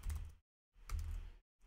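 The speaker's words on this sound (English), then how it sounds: "so let me go to the email field as I start typing in" Bursts of typing on a computer keyboard while entering an email address into a web form field, two short clusters of quick keystrokes separated by brief silences, close and fairly quiet.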